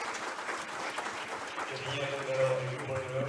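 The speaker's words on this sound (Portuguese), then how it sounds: "Finalmente, Nicolás Adriana Costa, um aplauso para ele." Audience applause at the closing ceremony of a DNS hackathon, a soft, steady patter of clapping heard from some distance, with a faint tone and a low hum beneath it.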